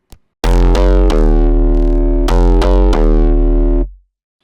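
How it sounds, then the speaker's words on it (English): A different heavy distortion effect with a deep, booming bass, loud saturated tones struck several times in succession and sustained for a few seconds before fading out, with no talk. "Let's try a different distortion."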